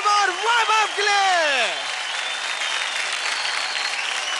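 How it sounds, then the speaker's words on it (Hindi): Loud audience applause fills a TV dance show studio on Dance India Dance Season 3, opening with a rising vocal whoop over the clapping before settling into steady, dense clapping. "जोरदार तालियां हो जाए सरम और वैभव के लिए"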